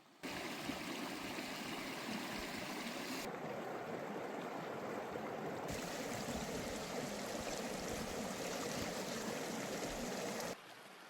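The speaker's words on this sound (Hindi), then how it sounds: "सिर्फ पानी के शोर के अलावा आपको कुछ सुनाई नहीं देगा" A mountain stream rushes through Balimik Valley near Skardu, a constant, dense wash of flowing water close by, steady and unbroken with no voices.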